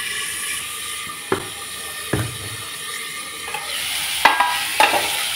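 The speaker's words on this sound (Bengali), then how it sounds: "এখন আমি নেড়ে চেড়ে ঢেকে দিচ্ছি।" Vegetables are stirred in a frying pan over a steady soft sizzle, with a few sharp clicks and scrapes of the utensil against the pan, close, with no talking.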